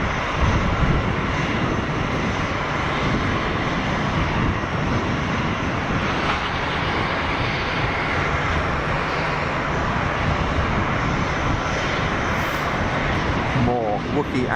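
An airliner sits at the runway 04 threshold at Geneva Airport, its engines building to a loud, sustained roar as the takeoff roll begins, steady and unbroken for the whole stretch.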